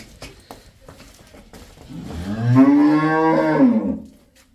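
A single loud, drawn-out cow moo close by, rising and falling over a couple of seconds, preceded by faint shuffling.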